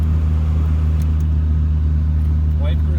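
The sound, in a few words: 1982 Fiat X1/9 engine running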